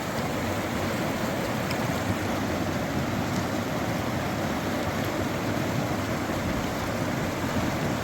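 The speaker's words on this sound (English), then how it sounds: "It's hard to even put your poles down because the water's pushing them downstream." Fast, strong river current rushing steadily and loudly during a wade across a Continental Divide Trail crossing, a dense unbroken roar of churning water close by with no voices.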